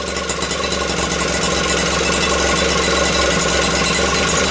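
An Atco lawn mower's small engine runs steadily after repair, a loud, continuous near mechanical drone with a dense rattling buzz and no clear rise or fall in pitch.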